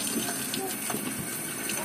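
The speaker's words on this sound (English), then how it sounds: "Let the water run." Water runs steadily from a newly installed kitchen faucet with the filter removed, a continuous close splashing gush into the sink at moderate volume, with no pauses.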